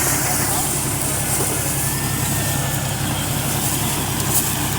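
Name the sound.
tractor engine running during potato harvesting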